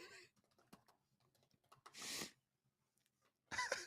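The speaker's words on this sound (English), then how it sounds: "All I hear is a little typing in the background as he works" Computer keyboard typing comes as a few sparse, faint clicks, with soft breathy bursts of noise between them.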